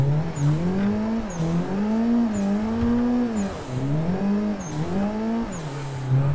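A 333hp Nissan 180SX drift car idles and revs unevenly in first gear, its engine note rising and dipping in loud, close surges with a steady exhaust drone throughout.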